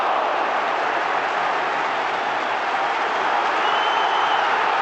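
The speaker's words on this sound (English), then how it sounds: "That's really got the crowd going." A football stadium crowd at a UEFA match between Liverpool and Genoa applauds and cheers a good save, a dense, loud, continuous roar of clapping and voices that holds steady throughout.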